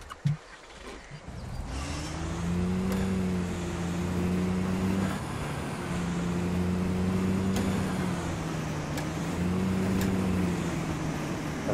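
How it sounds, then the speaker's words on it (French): A car in the video game Call of the Wild: The Angler drives along on a steady engine drone that swells and eases in slow cycles as it shifts. Clear and moderately loud, with no talking. "On va faire un petit tour en voiture."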